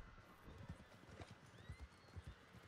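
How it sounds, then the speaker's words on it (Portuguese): Horses in the PS4 video game Red Dead Redemption II trot with rhythmic, repeated clip-clop hoofbeats, fairly quiet but distinct, and a faint whinny rises in the middle. "cavalos"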